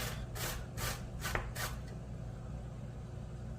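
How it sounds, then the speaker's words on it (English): Zucchini is rubbed against a grater in four or five quick, rhythmic rasping strokes near the start, each a short bright scrape, then fades to quiet background hum. "I'm going to just finish up grating my zucchini"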